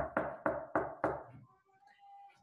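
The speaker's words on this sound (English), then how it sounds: "Knock, knock." Four sharp knocks on a door in a steady, evenly spaced rhythm, loud and close, followed by a faint, quiet tail.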